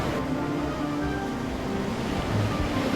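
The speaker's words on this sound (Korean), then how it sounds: "어머니가 딸을 데리고 간 곳은 바닷가 가파른 절벽 위입니다." Ocean waves at a steep seaside cliff rumble and wash in a continuous low roar, with wind buffeting underneath and no voices.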